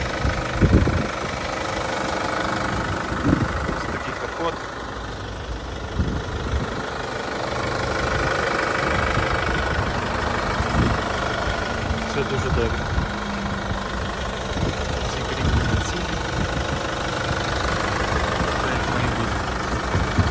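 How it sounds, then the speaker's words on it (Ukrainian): A Chevrolet Captiva 2.2 diesel idles with its hood open, a close, even clattering rumble with a steady knock running throughout, while someone talks over it. "Ось так працює мотор."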